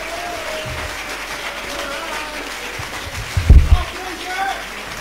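A concert crowd at a jazz club in Scheveningen applauds the band's drummer in a dense, sustained wash of clapping, with a couple of brief low thumps partway through.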